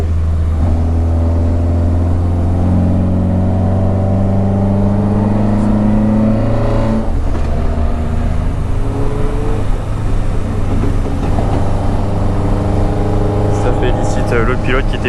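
A Peugeot 205 on the Nürburgring Nordschleife roars as its engine climbs through the revs, with gear changes and repeated rising pulls heard from inside the car, loud and continuous.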